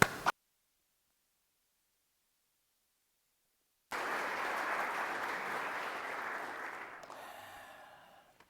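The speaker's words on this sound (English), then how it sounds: "let's give a warm round of applause for Dr. Wellborn." Audience applause swells suddenly after a few seconds of silence, a dense steady clapping from a sizable crowd that fades out toward the end.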